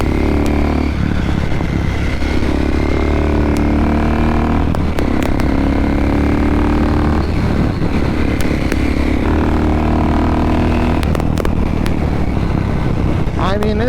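A KTM supermoto motorcycle engine drones steadily while riding, with shifting revs and wind noise, loud and close throughout, and someone talks over it.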